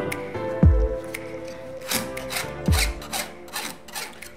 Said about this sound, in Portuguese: Estou limando aqui